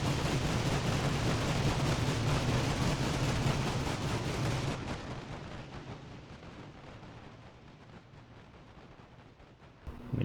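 A Maxim gun in a video game set in the Carlist Wars hammers out loud, dense automatic fire for about five seconds, then the din gives way to a long fading rumble.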